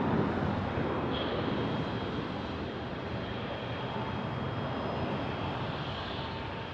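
A Southwest airliner taking off at Phoenix Sky Harbor Airport, with a broad, sustained jet engine roar that holds steady and loud, a faint whine running above it and slight wind noise, and no voices.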